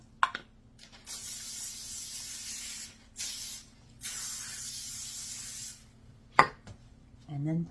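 Cooking spray hisses from an aerosol can onto parchment paper lining a baking pan, in three steady bursts of a second or two each, close and clear, with a few clunks around them.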